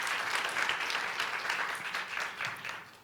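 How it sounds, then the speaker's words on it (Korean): An audience at a political party's founding convention gives warm applause, many hands clapping in a continuous, fairly loud burst that swells slightly and then tapers, with no speech over it. "박수로 안녕해 주시기 바랍니다."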